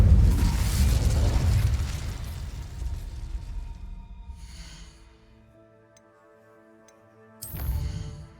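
A fire spell, Incendio, is cast in Hogwarts Legacy: a loud roaring whoosh of flame that fades over several seconds into quiet music, then another brief burst of flame near the end.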